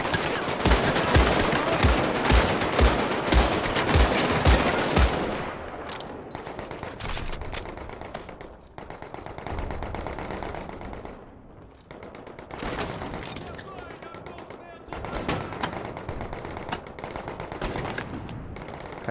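Rapid bursts of gunfire in Medal of Honor VR, heavy automatic shots rattling loudly at first, then scattered shots continuing at a lower level.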